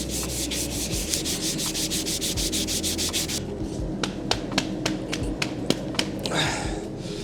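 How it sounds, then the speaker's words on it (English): Body filler being sanded on a Subaru WRX widebody, a loud, close, rhythmic rasp of rapid back-and-forth strokes, then slower separate scrapes and a final steady rubbing pass. "We got a lot we got to sand out in this area."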